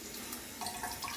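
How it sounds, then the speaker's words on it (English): Running tap water splashes steadily in a sink as water is splashed on before a head shave, a soft continuous wash with a few brighter splashes, close and without talk. "just gonna splash a little water on."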